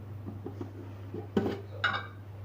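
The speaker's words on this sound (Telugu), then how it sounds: "వేపినాక గిన్నెలో వేయాలి." Pieces of fried dry fish dropped into a bowl, giving two quick, bright clinks about half a second apart over a steady low kitchen hum.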